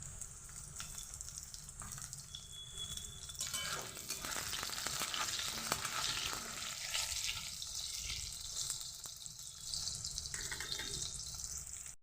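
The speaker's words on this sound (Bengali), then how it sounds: "প্রথমে আমি আলুগুলোকে ভেজে নেব এর মধ্যে তেল গরম হতে দিয়ে দিয়েছি" Hot oil sizzling steadily in a pan, heated ahead of frying potatoes, alone and continuous, with the sizzle swelling louder partway through as though the oil is disturbed or food is moved in it.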